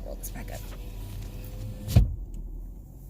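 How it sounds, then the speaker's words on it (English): Electric power window of a car rolling up, a steady motor whine under the cabin's low rumble, ending in a soft thud as the glass seats, near and moderately loud. "And I'm gonna roll this back up."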